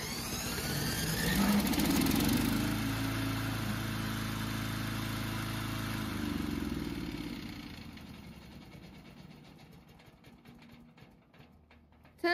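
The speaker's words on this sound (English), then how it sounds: "This is what starts the engine." Engine on a remote-operated rubber track slope mower (VTLM800) running steadily and loud at first, then dropping away and fading to a faint hum, with a brief click at the very end.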